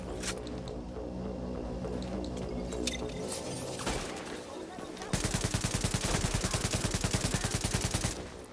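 Bursts of gunfire in the video game The Division, suppressing snipers during a Times Square power relay mission, with scattered shots giving way to a sustained rapid automatic volley, fairly close and loud.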